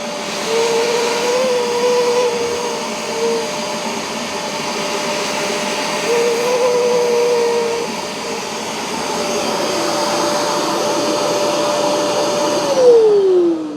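Bissell Pro Heat portable carpet cleaner running with suction, a loud continuous motor whine with gurgling pitch shifts as it draws up liquid, rising briefly at the end.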